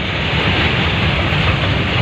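A train rumbles past close by, a steady loud roar of wheels and carriages filling the whole moment.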